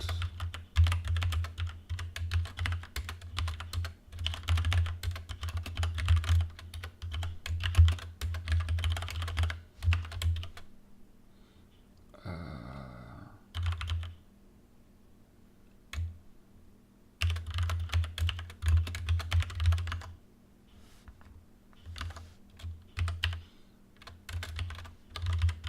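Typing on a computer keyboard while writing Rust code, dense bursts of rapid key clicks and clacks up close, broken by a few quiet pauses, with no talking.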